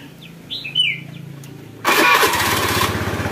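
A Honda Beat scooter engine starts abruptly after a quiet stretch with faint bird chirps, then settles into a loud, close, steady running rumble.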